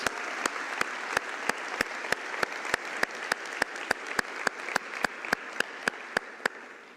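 A church congregation claps steadily in unison, a brisk, even beat of about three sharp claps per second that continues throughout.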